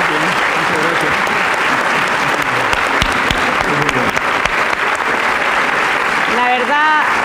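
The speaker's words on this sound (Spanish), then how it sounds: "Queremos brindarles un tremendo aplauso." An audience applauds loudly after a lecture in a hall, a thick, continuous roar of clapping that holds steady throughout while voices speak over it near the end.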